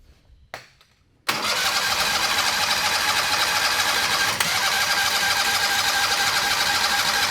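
A Turbo 670 dragster engine runs on methanol. After a brief crank, it fires abruptly and settles into a loud, steady, buzzing run close by, lasting several seconds with one small blip near the end.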